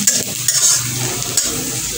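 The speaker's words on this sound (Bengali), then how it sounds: "এই এবার আমি করছি, পেঁয়াজটা একটু লাল করছি" Onions fry in mustard oil in a home kitchen pan, giving a continuous close sizzle with repeated stirring scrapes and a few light utensil knocks, and nobody speaks.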